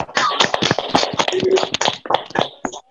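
An audience at a church women's commission Christmas service claps, dense rapid hand claps spread across the moment, loud and close, fading briefly near the end before picking up again.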